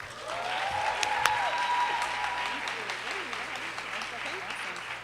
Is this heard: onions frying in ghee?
no